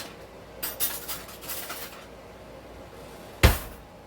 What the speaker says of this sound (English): let me grab another spoon here